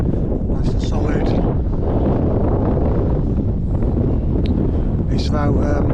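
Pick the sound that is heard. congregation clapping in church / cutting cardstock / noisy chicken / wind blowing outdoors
wind blowing outdoors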